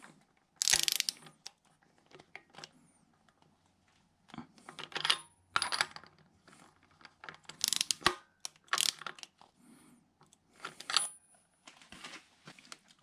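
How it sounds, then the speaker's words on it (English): Bolts on an RB20DET engine being tightened with a torque wrench during a rebuild: sharp metallic ratchet clicks and clinks in scattered bursts, close and fairly loud, separated by quiet pauses. "So we're going to torque this up to 22 Newton meters."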